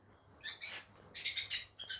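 Pet lovebirds or cockatiels, a breeding pair kept with their chicks, chirp in quiet bursts: a few short squawky calls, then a denser cluster of shrill chirps, fairly faint and nearby.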